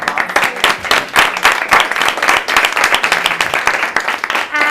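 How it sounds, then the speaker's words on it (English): Students at a round-table discussion applaud, a close, loud burst of many individual claps with sharp separate hits and an uneven rhythm throughout, with no speech over it. "Give yourselves a round of applause."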